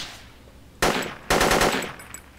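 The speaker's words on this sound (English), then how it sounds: "Whoa, taking some heavy fire." Heavy gunfire in the Project Reality combat game on the Karbala insurgency map comes as two loud, close bursts of machine-gun fire a half-second apart, with no talk.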